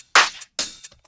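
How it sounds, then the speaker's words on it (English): An electronic drum loop played dry, without glue compression or drum bus: two sharp, bright noisy hits about half a second apart, each followed by a lighter tick, clean and close with silence between. "the drums sound like this"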